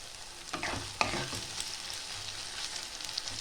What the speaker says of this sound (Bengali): এটা একটু ভাজা ভাজা করতে হবে।